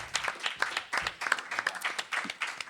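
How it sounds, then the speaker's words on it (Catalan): A small studio audience gives brief, scattered applause for a guest on a Catalan talk show, a quiet, uneven patter of hand claps lasting a few seconds. "Doncs va, un aplaudiment"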